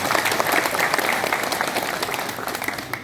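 Audience at a community organisation's thanksgiving gathering applauding a guest, dense steady clapping from a crowd that fades slightly toward the end.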